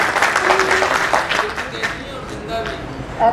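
Audience applause at a poetry recital (mushaira), a burst of clapping from a crowd that fades over a few seconds, with a voice speaking over it.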